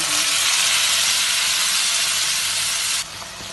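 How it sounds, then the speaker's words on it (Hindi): A paste of tomato, green chili and ginger hits a crackling tempering for an aloo black chana curry. It makes a loud, dense, continuous sizzle close up that drops to a quieter hiss near the end. "तड़का क्रैकल हो गया है, अब ये पेस्ट डाल देंगे।"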